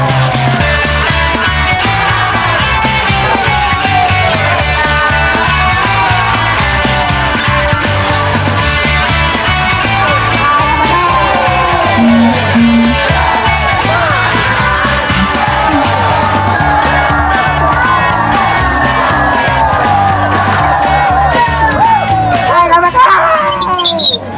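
A large crowd of voices shouting and calling out together outdoors while pulling a boat to sea, a loud continuous din of overlapping cries.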